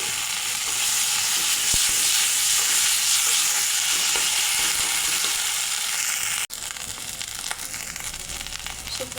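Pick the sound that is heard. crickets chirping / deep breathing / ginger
ginger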